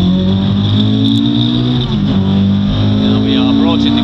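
A rear-wheel-drive car accelerates on a driving track. The engine drones loud and close from inside the cabin, its pitch climbing steadily as the car gathers speed.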